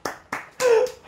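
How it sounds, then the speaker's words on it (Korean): Short bursts of hand clapping, three sharp claps close together, the last one longer and louder with a ringing tone; no talk. "그런 멋진 모습에 박수가 절로 나옵니다"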